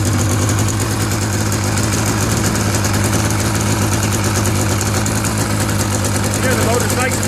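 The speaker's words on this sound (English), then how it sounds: "The motor's nice and smooth, there's no weird kicks or anything." A motor runs at a steady, smooth idle, loud and close with an even low hum and no breaks, while someone talks over it.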